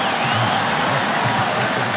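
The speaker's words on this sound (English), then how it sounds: "And you hear the crowd 6 yards short of going all the way." A football stadium crowd roars steadily during a long run in a Wagner vs. Syracuse college game, a dense, loud sustained cheer with some low voices mixed in and no break.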